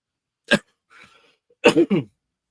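A single sharp sneeze bursts out, followed by brief quiet murmuring and another short burst of vocal sounds.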